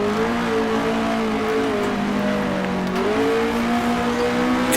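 A race car accelerates on a narrow circuit, its engine note climbing steadily through the gears in a loud, continuous onboard whine with brief dips between rising pitches.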